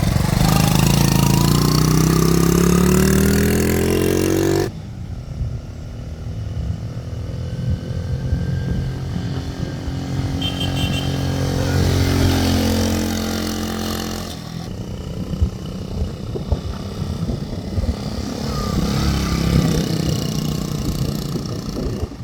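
A restored 1970 Honda CT70 Trail 70 motorcycle's small engine runs loud and close, revving up with rising pitch before settling into a steadier idle-like run.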